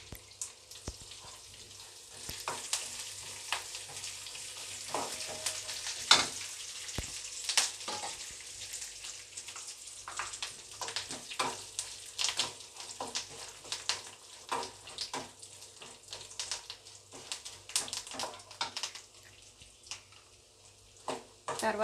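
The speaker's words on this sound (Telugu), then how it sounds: "పల్లీలు దోరగా వేయించుకున్న తర్వాత ఇందులోనే పోపు గింజలు వేసుకున్నాం." Mustard and other tempering seeds, curry leaves and dried red chillies fry in hot oil in a pan of roasted peanuts for lemon rice, giving a steady close sizzle with frequent sharp crackles and pops throughout.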